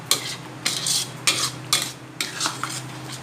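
Coconut cream simmering with red curry paste in a pot for a Thai tilapia curry with noni leaves, stirred in several distinct scraping strokes of spoon against metal, each a short loud swish over a low steady bubbling hum.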